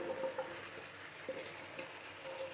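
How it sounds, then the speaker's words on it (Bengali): Boiled potatoes and chicken pieces, pre-fried with salt and turmeric, fry together in a pan with a steady, moderately faint sizzle and crackle throughout, with no talking. "ভাজা মুরগিটা দিয়ে দিব"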